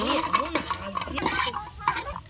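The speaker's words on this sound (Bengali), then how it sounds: "কুমড়োর বড়ি কটা ভেজে নেব।" Pumpkin bori frying in hot oil in a home kitchen, a steady close sizzle with stirring scrapes and light utensil clatter, and faint talk in the background.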